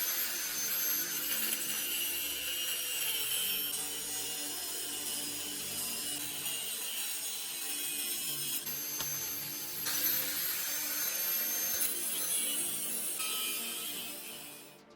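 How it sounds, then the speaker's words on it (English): A steel plate clamped in a vise being cut in half, giving a steady, harsh, bright grinding rasp that runs continuously and loud, close up, then cuts off abruptly at the end, with no talk. "Clamp the steel plate in a vise and cut it in half along the center line."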